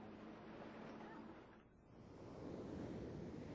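Sea waves break and wash at Juhu Beach in Bombay, with a soft breeze over them, a continuous faint rush that dips briefly and then swells again.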